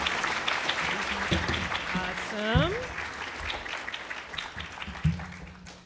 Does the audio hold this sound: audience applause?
yes